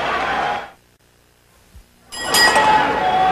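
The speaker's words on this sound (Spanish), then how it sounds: "Campana, final de este round." A boxing ring bell rings at 2016's Domingo "Pretty Boy" Lucas vs. Ricardo Lopez bout, closing a round, with sustained ringing tones over loud crowd noise after a brief quiet lull.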